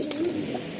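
Breeding pigeons of a racing line kept in a breeding setup give a short, soft coo close by, with no voices present.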